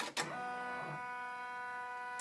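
An embroidery machine stitching a short tack-down while sewing an in-the-hoop zippered wallet: a brief burst of needle clatter followed by a steady mechanical whirring hum, close and moderately quiet.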